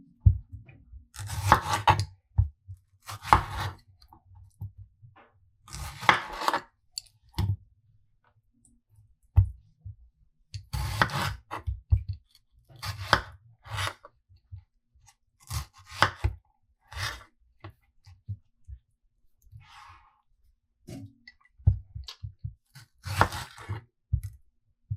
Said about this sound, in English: Sometimes I might cut them in half one more time if they're big